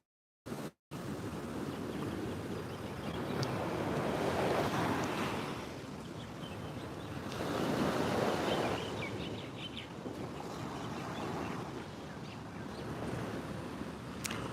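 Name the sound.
ocean waves at the shore in Maui at dawn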